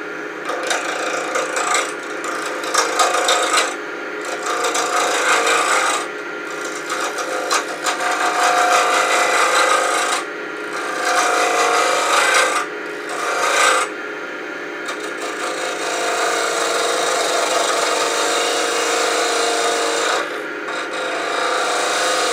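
A wooden burl piece being rounded and thinned on a lathe, heard as a loud, steady rasping scrape in repeated passes broken by short pauses, with no talking.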